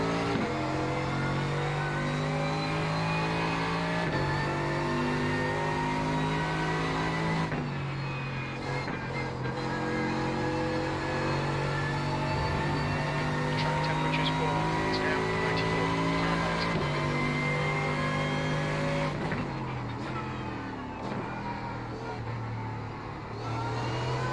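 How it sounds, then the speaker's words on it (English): A race car engine in a video game drones steadily with shifting pitch as it eases on and off the throttle out of a hairpin at Mid-Ohio, with a voice talking over it. "Listen to my car, you'll hear that I'm babying into the throttle and out of that hairpin sometimes"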